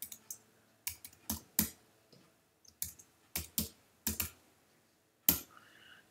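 Quick, irregular clicks of keys on a computer keyboard as a password is typed during an Active Directory server setup, landing in short clusters separated by brief pauses, close and alone.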